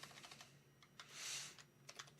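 Typing on a computer keyboard: a quick run of light, close key clicks in an irregular rhythm, quiet overall, with no voices.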